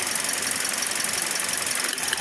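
Toyota Vios dual VVT-i engine with a faulty ignition coil running close by, a dense steady mechanical clatter with fast ticking and a faint squeal, no talking.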